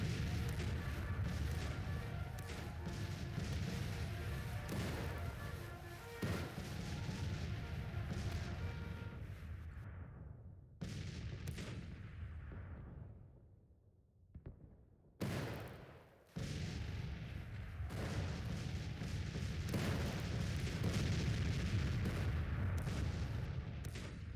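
American Civil War cannon artillery fire in the strategy game Grand Tactician: The Civil War, heard as a dense, sustained rumble of booming shots with a few brief lulls where the roar drops away before swelling back.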